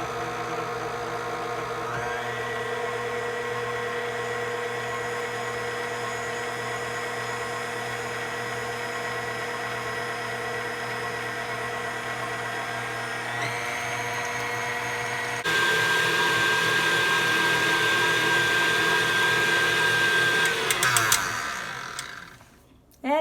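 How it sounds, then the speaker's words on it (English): An electric mixer whips cream, starting at slow speed with a steady motor hum that jumps to a louder, harsher whir partway through before winding down and stopping near the end. "So we're going to start the mixer on a slow speed."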